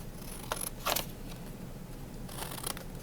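Scissors cutting paper into flag shapes, a couple of short, soft snips close by over a quiet room hiss, with no talk.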